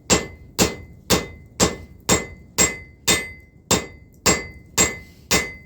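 A blacksmith hammers hot steel to draw it into a taper, striking eleven sharp, ringing blows at a steady rhythm of about two per second, close and loud with nothing else heard.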